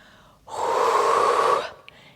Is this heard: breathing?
yes